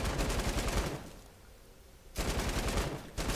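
Enemy gunfire in Fortnite, on a Cube labyrinth escape map: loud rapid automatic bursts that stop for about a second and then resume in another sustained volley, close and dense.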